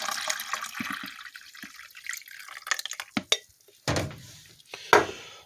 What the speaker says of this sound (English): when you put the water in